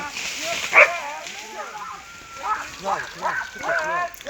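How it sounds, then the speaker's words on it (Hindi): Hunting dogs bark and yelp while chasing a jackal, a few sharp calls scattered through the clip over an outdoor background, with people talking and shouting nearby. "कुत्ते छोड़ दो यार।"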